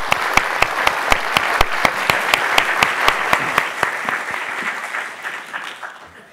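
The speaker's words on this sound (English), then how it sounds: "A big round of applause." Audience applause after a conference panel on China's economy and debt: dense, steady clapping from a crowd in a hall, loud at first, then slowly thinning and fading out over several seconds.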